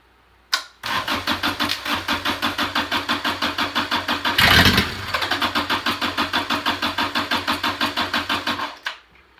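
A junkyard Kubota diesel engine cranking over with a steady rhythmic chug, a brief throttle surge in the middle, then more even chugging before cutting off; loud and close, no voices.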